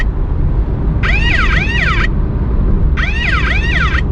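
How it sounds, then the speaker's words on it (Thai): A car's speed warning alert sounds after passing 70, giving two bursts of rapid, sweeping electronic chirps, each about a second long, over a steady loud rumble of engine and road noise. "ประมาณ 70 นะครับ ก็จะมีเสียงเตือนนะครับ"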